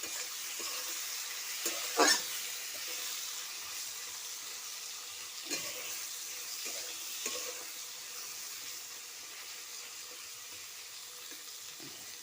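Bitter gourd pieces fry in a pan with salt and turmeric, a soft, low hiss broken by occasional spoon scrapes and one sharper clatter.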